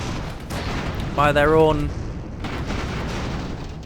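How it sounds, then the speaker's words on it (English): Grape shot cannons keep firing on an airship in Airships: Conquer the Skies, a dense, steady crackle of shots rolling on throughout while someone talks briefly over it. "We've still got the grape shot cannons here, actually, that are firing away."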